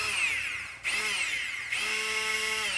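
Breville BSB530XL immersion blender running at its top speed of 15, a loud, high-pitched motor whine with shifting pitch as it works through the mix, briefly dipping before surging again.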